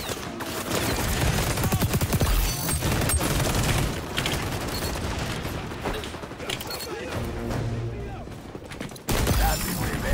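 Rapid gunfire from the shooter game XDefiant rattles in dense, loud bursts across most of the span, with a brief lull before firing resumes, while someone talks over the shots.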